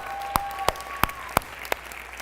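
A short burst of clapping: five sharp, evenly spaced claps in a steady rhythm over a faint sustained tone.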